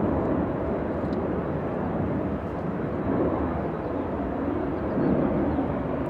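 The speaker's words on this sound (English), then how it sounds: "we have Delta's 1903 flying in from Guatemala City" A Delta airliner arriving at LAX on a flight from Guatemala City, heard as a steady, moderately distant broadband engine rumble with slow swells in level and no clear peaks.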